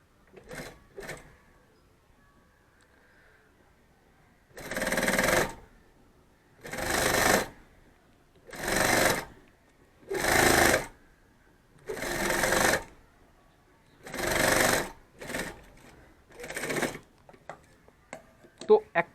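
Sewing machine stitching one side of a fabric bag with a zipper strip, heard in about eight short, evenly spaced bursts of rapid stitching separated by quiet pauses, close up and loud against a near-silent background.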